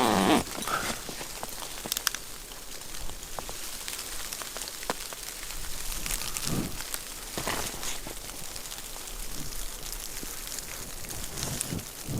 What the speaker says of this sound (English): We've got some more freezing rain going on.